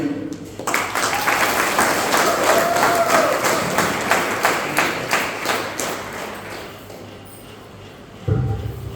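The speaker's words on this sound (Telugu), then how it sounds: "నా దగ్గర స్టేజ్ మీద మాట్లాడుతుంటే మీరు చప్పట్లు కొట్టడానికి మీరు రెడీ" A stage audience applauds, a dense burst of clapping that starts abruptly, holds steady for several seconds, then thins out, before a loud voice cuts in at the end.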